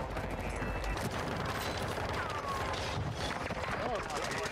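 Dense gunfire in the video game Call of Duty Warzone DMZ, continuous overlapping shots and bursts, loud and unbroken throughout, with talking over it.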